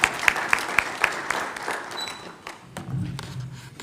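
Audience applause at a police roundtable meeting in Kenya for an honorable guest, a burst of scattered hand clapping with a few sharp near claps, tapering off as the room settles.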